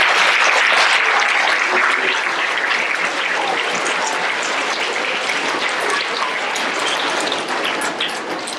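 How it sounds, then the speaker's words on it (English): Loud, dense applause from a school audience at an elementary awards assembly for third graders, a thick roar of many hands clapping close by that holds steady and eases slightly near the end. "Big round of applause for our third grade."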